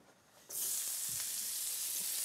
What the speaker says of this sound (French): on va commencer par faire revenir les oignons à la poêle